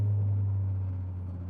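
A Mazda Miata's exhaust heard from inside the cabin with the windows up: a steady, loud low drone with a smooth rumble that eases slightly toward the end.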